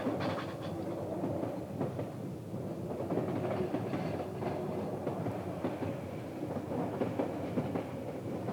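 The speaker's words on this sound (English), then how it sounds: "the meter gauge BOB trains run onto the rack section for the first climb to Lauterbrunnen" A metre-gauge BOB rack railway train climbs toward Lauterbrunnen, Switzerland, rumbling steadily nearby, its wheels clattering and grinding in a continuous, even roar.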